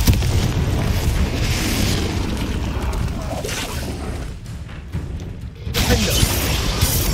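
Booming blast from the Confringo fire spell in Hogwarts Legacy, a loud rumbling explosion that fills the scene, dips briefly, then swells again with crackling debris.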